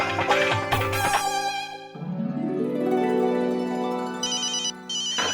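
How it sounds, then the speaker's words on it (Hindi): A telephone rings with a melodic electronic ringtone, repeating tonal phrases at moderate volume indoors, with no talking over it. "लगता है जेठालाल का फोन होगा। स्पीकर पे रखो।"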